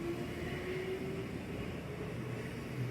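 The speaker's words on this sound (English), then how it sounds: "While waiting, he saw this white cat train." A white cat-themed train on a rail line in Wakayama, Japan rumbles steadily nearby, a continuous low mechanical drone with faint humming tones and no voices.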